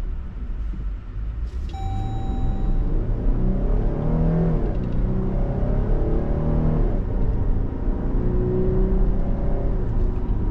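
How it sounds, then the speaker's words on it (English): A 2025 Dodge Durango GT Plus AWD engine revs in sport mode with manual paddle shifts, rising and falling engine pitch through several gear changes, a steady loud rumble from inside the SUV, with a brief chime near the start. "with the sport mode on, and let's move the gear shift to the left, hit manual, and let's try out our paddles."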